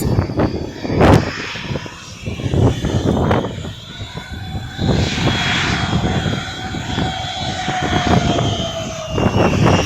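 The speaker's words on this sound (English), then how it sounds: "Yep, they're the Rolls-Royce engines." An Icelandair Boeing 757-200 with Rolls-Royce engines taxis nearby at an airport, a loud steady jet whine and rumble with slowly shifting tone, heard alone without talk.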